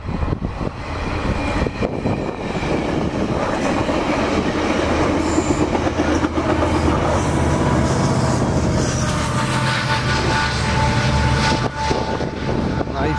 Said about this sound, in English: I think maybe BNSF has given up on freight trains.